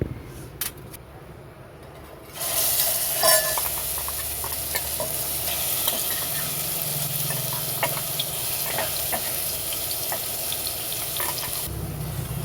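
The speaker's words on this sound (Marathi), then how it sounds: "आता 1-2 मिनिटं आपण तेलात मसाला परतून घेऊ." Masala sautéing in hot oil, a steady close sizzle and frying hiss that swells after a quiet start and runs on evenly, with faint stirring taps and no talk.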